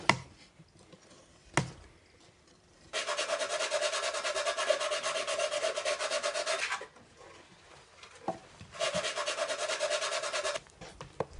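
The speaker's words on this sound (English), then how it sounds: "He gives two coats, polishing them down each time." Foundation coats of clay mixed with raw lacquer being polished down by hand on a maki-e lacquer piece, heard as two long, steady rasping rubbing passes separated by brief knocks and quiet pauses.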